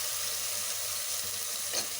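Ginger garlic paste frying in oil in a pan, a steady close sizzle with a faint stir or scrape near the end, no voices.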